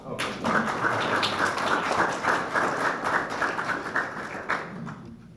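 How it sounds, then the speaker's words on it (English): A crowd applauds steadily for several seconds, a dense wash of clapping that fades slightly toward the end. "Let's give these gentlemen a round of applause."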